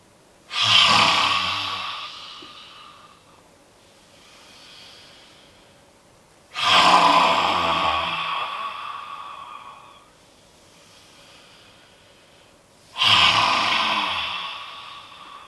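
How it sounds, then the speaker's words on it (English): Three loud, forceful breaths pushed from the back of the throat, each a harsh rasping exhale followed by a quieter inhale, spaced evenly about six seconds apart in a quiet room. "I'm going to make this big sound coming right from the back of the throat"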